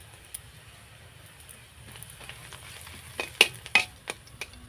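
Crushed garlic and chopped onion frying in mustard oil in a kadai: a soft steady sizzle with a few sharp stirring clatters toward the end, close and fairly quiet, with no talk.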